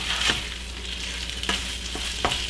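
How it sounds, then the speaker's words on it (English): Steak searing in a pan gives a constant close-up sizzle and crackle, broken by a few sharp spits and taps from the pan. "We'll sear it up a little bit"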